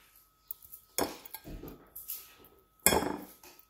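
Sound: mixing samosa stuffing in a bowl

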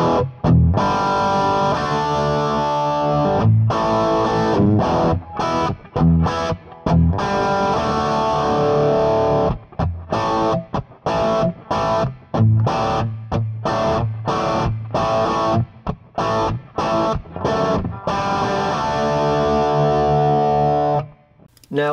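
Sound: cranked guitar amp with overdrive pedal

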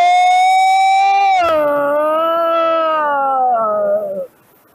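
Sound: woman imitating the roar of a Naga serpent

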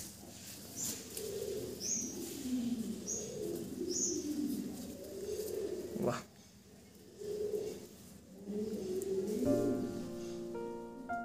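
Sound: fancy pigeons cooing in a loft

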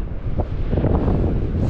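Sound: wind on the Blackpool promenade

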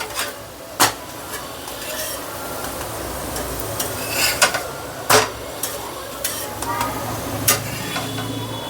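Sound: sesame jaggery flatbread roasting on a pan

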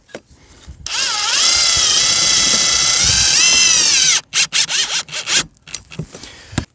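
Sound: power drill driving screws in

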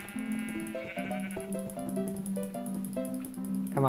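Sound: sheep bleating in Minecraft video game

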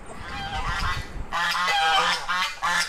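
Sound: ducks and newly hatched ducklings

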